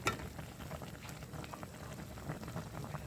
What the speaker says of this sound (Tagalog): Ah, kailangan pa itong pakuluan pa ng pakuluan pa ng konti.